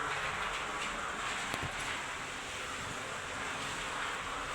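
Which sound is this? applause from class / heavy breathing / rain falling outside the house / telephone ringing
rain falling outside the house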